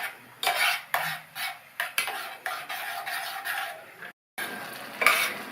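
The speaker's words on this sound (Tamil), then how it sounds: "ரெண்டையும் நல்லா மிக்ஸ் பண்ணி விட்டுக்கலாம்." Cooked moong dal is stirred into a payasam mixture in a pot, with about a dozen distinct, close spoon strokes scraping against the vessel and one brief silent pause.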